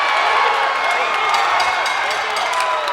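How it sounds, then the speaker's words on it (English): A crowd at an MMA fight cheers and whoops loudly as the final exchange ends, a dense sustained roar of voices filling the arena. "Crowd comes to life."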